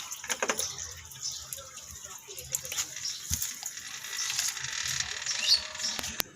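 Everyday clothes washed by hand with water, splashing and sloshing close by with wet slaps and dripping, uneven and building in the latter half, with faint voice underneath.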